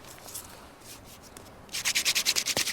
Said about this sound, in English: rubbing or twirling the hard piece between the palms of their hands, they drill the soft piece till it smokes